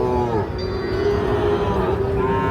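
Sahiwal bulls and calves at the Ambari cattle market in Parbatipur, Dinajpur: a loud, close, drawn-out moo sliding in pitch, over a busy low background murmur.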